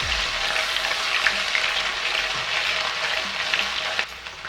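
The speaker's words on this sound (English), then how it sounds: "and now 1 teaspoon ginger paste, and fry for 3 seconds" Garlic and ginger paste frying in a tablespoon of hot refined oil in a pan, a steady close, loud crackling sizzle throughout that eases slightly near the end, with no talking.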